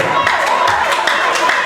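A church congregation at a married and singles seminar applauds the pastor with a quick, close run of rhythmic clapping, a voice speaking over it.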